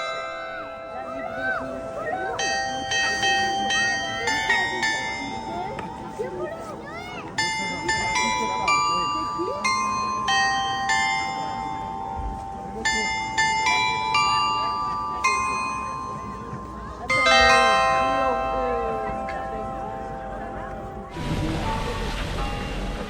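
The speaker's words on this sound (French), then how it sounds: "Voici le mélodieux carillon de Saint-Lary-Soulan." The carillon of Saint-Lary-Soulan in the Pyrenees rings out a melodious tune of clear, ringing bell strikes in a steady sequence with lingering overtones, ending in a burst of broadband noise.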